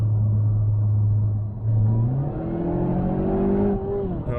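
Supercharged Mazda 6 engine revving hard after a kickdown, a loud steady in-car drone whose pitch drops then climbs steadily as it accelerates, with no talk over it.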